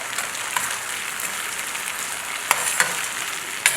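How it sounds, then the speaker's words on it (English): A Trini curry base for eggplant and potato cooks down in a hot pan until grainy, hissing in a loud, steady sizzle punctuated by several sharp scraping stirs. "I'll cook the curry until it becomes grainy and fragrant"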